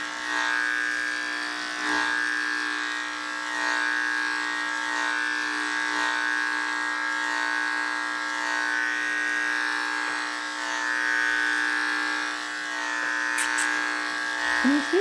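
Electric dog clippers with a 3/4 inch blade run steadily up close while shaving a matted labradoodle's coat, giving a continuous buzzing hum that shifts slightly in pitch as the blade moves through the fur.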